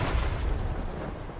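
A Tsunami Cannon weapon blast in the vehicle combat game Crossout, a heavy low rumbling boom that rolls on through the whole short moment without any talk.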